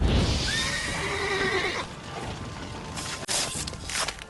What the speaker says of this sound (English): a blast of Igni can spook horses into dropping their riders